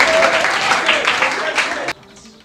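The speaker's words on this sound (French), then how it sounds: "Sous vos applaudissements" Audience applause at a Gabonese lycée gathering, lively clapping under a voice for about two seconds before cutting off abruptly to near quiet.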